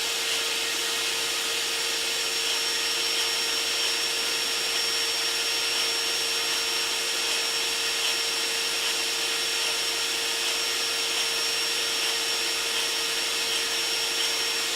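Industrial rotary die grinder spinning at 26,000 RPM with a flexible extension shaft attached, giving a steady, loud, high-pitched whine with a constant tone that runs unbroken and alone throughout.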